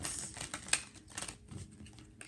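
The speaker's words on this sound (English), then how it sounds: "I'm gonna shuffle the cards" Tarot cards from a Modern Witch deck are shuffled by hand, a quiet, quick patter of soft flicks and riffling taps over a couple of seconds, with no talking.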